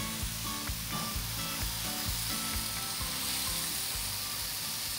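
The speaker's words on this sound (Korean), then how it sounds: "주문과 동시에 서서히 달궈진 돌판. 면발이 눌어붙지 않게 살짝 데친 숙주를 깔고 짜장면을 넣어줍니다." Jjajangmyeon noodles laid over lightly blanched bean sprouts on a heated stone plate give a steady, dense sizzle and hiss, with faint clattering of utensils underneath and no talking.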